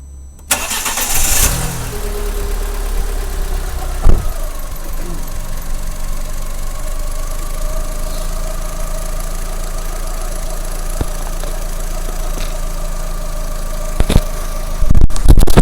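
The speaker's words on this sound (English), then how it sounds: "we'll start the engine, give it a few revs" A car engine with a suspected blown head gasket cranks and catches, then settles into a steady idle with a couple of brief revs near the end; fairly loud and close, no talking.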